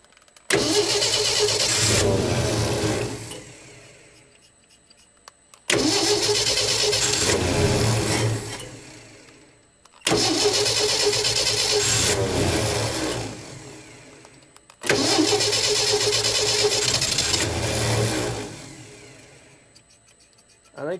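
A 1967 Ford F-100 pickup engine, left sitting for over 30 years, cranks in four long separate bursts, each a loud churning starter whir with brief catching, separated by short silences.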